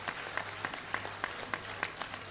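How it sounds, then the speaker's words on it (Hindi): Audience applause at a religious gathering, a steady wash of clapping with sharper individual claps standing out at a regular pulse, heard at moderate distance and fairly faint. "एक बार जोरदार ताली बजा करके साधुवाद दो।"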